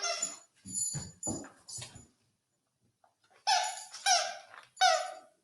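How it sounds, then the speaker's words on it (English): A dog whimpers and squeaks in a few short high-pitched bursts, close by, with a brief pause between two clusters of cries. "That's my dog."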